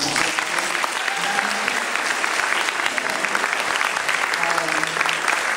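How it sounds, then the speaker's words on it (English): Graduation audience applauds the graduate's family, dense continuous clapping throughout, loud and close, with faint voices underneath. "so we give them a round of applause"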